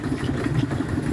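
A farm tractor engine runs steadily at idle, a continuous low chugging throb with a regular pulse and slight clatter, fairly close and alone without voices.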